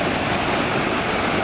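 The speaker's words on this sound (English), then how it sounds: "we have a nice view of the waterfalls over here." Rushing water from the Kbal Chay waterfalls makes a dense, steady broadband roar, constant and fairly loud with no other sounds on top.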